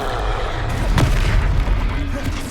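A Confringo spell explosion in the video game Hogwarts Legacy lands as a loud, deep boom in the middle of a short burst of battle noise, with game voices nearby.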